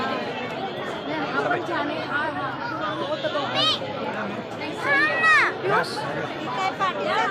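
Dense crowd chatter from a large gathering at Chaityabhoomi on Buddha Purnima, a continuous babble of many voices with a few louder nearby calls rising above the steady hubbub.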